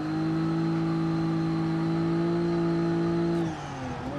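A car engine in the BeamNG driving game is held at the red line, giving a loud, steady, strained drone for about three seconds before the revs suddenly drop away.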